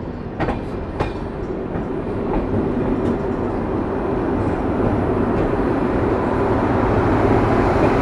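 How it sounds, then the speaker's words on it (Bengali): The Jalpaiguri Road–Sealdah Humsafar Express rolls into New Jalpaiguri Junction station with a loud, steady rumble that slowly builds. Wheel clatter and a few sharp metallic clicks sound near at hand, with no voices. "আমরা অবশেষে এই ট্রেনের প্রথম stoppage new Jalpaiguri junction rail স্টেশনে ঢুকছি।"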